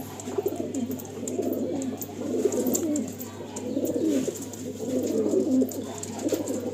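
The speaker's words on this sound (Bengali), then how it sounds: "এরা সারা দিন লফটের মধ্যে গুটুরগু করতে থাকে" Andhra pigeons coo in a loft, soft throaty rolling calls rising and falling in repeated waves over a low steady hum.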